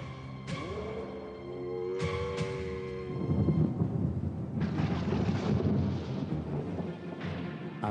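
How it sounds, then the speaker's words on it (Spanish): A violent thunderstorm with heavy rain: rumbling thunder and a loud crack build into a dense wash of pouring rain, mixed with dramatic music in the background. "una tormenta violenta estalló liberando un torrente de agua"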